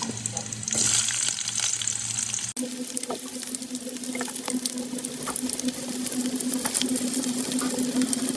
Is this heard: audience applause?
no